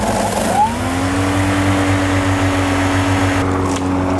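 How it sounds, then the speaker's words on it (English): A battery-powered lawnmower motor spins up with a rising whine, then holds a steady, close electric hum without dipping while it runs over rough, tough grass. "you're not hearing like the motor kind of dip, even though it's going over quite sort of rough surfaces or quite tough grass"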